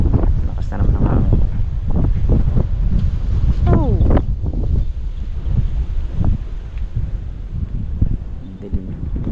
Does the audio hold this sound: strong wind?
yes